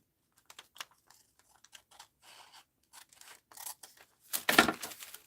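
Scissors cut paper for an art journal on a cluttered desk, giving a series of quiet, uneven snips and scratchy rustles, ending with a louder crunching cut.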